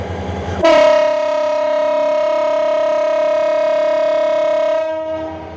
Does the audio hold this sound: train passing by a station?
yes